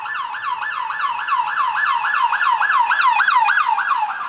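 A police siren wails in a steady, rapid up-and-down yelp, loud and close, holding strong as the vehicle passes with no voices over it.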